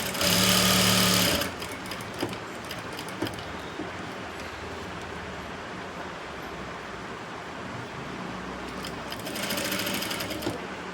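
A sewing machine runs a straight seam on a blouse, whirring loudly for a short burst at the start, dropping to a steady low hum, then rising again near the end.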